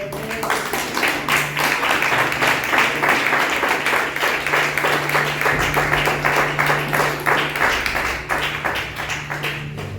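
A church congregation at a Holy Communion service bursts into sustained, dense applause, many hands clapping steadily together in a loud wash that carries through the whole stretch with a low hum beneath.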